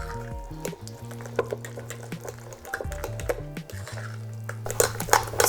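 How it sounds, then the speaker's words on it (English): A fork mixes egg into a cheesecake-style crepe filling in a bowl, giving close, irregular clinks and scrapes of metal against the dish in quick bursts. "you also just want to mix in the egg with the fork just until it's combined"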